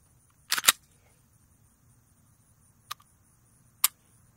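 An HK VP9 pistol gives sharp, close mechanical clicks of its trigger resetting: a quick double click near the start, then two more single clicks spaced apart, all alone in a quiet room.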